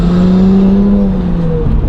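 An Audi S4 fitted with a Pure 750 turbo revs loudly up close, a strained engine note climbing and then easing off over two seconds.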